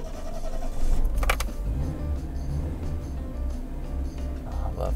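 A 1987 Yugo 55A, an Australian prototype with a cable throttle, sets off from a stop: a low engine hum under interior clunks and a brief rattle early on, then a steady idle-to-drive drone.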